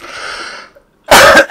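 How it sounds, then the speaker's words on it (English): Coughing indoors during a hide-and-seek game, a faint rough stretch followed after a short pause by a loud, close burst of harsh coughs. "Oh, I can't stop coughing."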